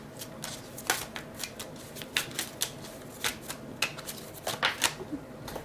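Playing cards riffled and shuffled, then pulled one by one from a deck, giving a run of quick crisp flicks and snaps at close range over a soft room hiss, with no talk.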